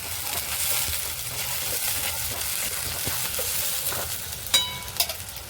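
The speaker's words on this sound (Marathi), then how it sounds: "त्याच्यामध्ये आपण हे वाटप टाकून द्यायचं आणि असं सगळं मिक्स करायचं" A spoon stirs ground masala paste into soft cooked onions in a pan, with steady frying sizzle and soft scraping close up, and a couple of sharper clinks near the end.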